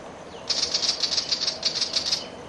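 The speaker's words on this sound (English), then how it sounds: "That other birds you can hear calling in the background, that's Willie Wagtail." A Willie Wagtail gives a quick run of bright, high chattering notes in a steady rhythm, fairly clear above faint outdoor background noise.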